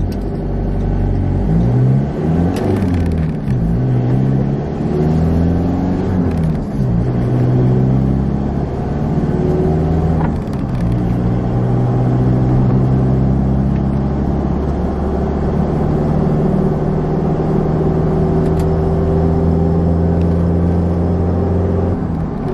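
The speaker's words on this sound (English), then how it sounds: "I'm just accelerating to get onto the freeway" Inside a Ford Ranger as it accelerates onto the freeway, the engine drones loudly and climbs in pitch through several gear changes, a steady rumbling cabin sound with no talking.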